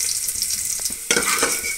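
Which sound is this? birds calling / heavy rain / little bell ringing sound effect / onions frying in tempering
onions frying in tempering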